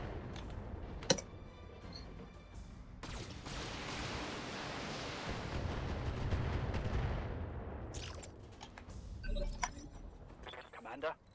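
Weapons fire in BattleTech: mech guns and missile launches blast and rumble through a long sustained barrage with sharp cracks at the edges, while a voice talks over parts of it.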